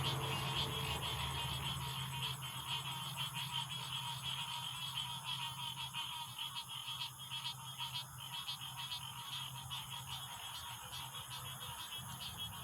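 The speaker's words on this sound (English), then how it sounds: "Can you hear the frogs now?" Frogs croak steadily at night out in the countryside, a dense continuous chorus of rasping calls with a high insect-like trill layered above, heard at a distance and fairly faint, with no talking.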